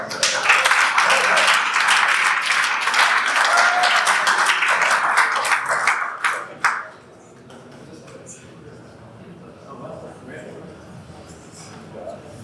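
Crowd applause at a startup pitch night in New York for a pitching team, loud and dense for about six seconds, then dying away into quiet room noise.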